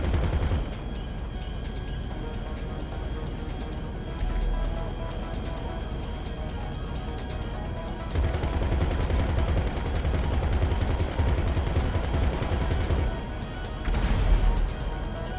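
Continuous gunfire in GTA 5 Online during a Doomsday heist setup against air defenses: dense, repeated shots over game sounds and explosions, loud throughout, with heavier bursts in the second half.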